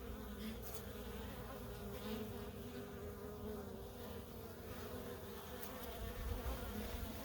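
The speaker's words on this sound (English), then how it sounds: "All of the bees in the air right now are drones who have stopped being fed by the workers and are looking for food." Honey bee drones buzz continuously in the air around a hive during a honey harvest, a dense, droning hum from many insects with individual bees passing close now and then, no voices.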